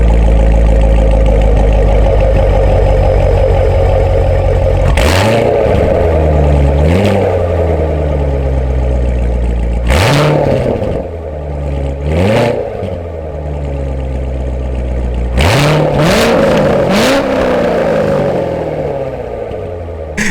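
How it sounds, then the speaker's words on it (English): Corvette C7 stock exhaust idling with a steady low rumble, broken by five or six sharp, loud revs that climb and fall back to idle, recorded close up with no talking. "I'll give you a sound of the exhaust as it turns down and a few revs"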